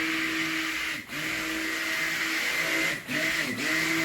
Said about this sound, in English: we are going to stick blend this to where it doesn't get too thick